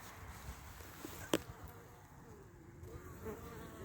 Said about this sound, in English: Bees are all out foraging around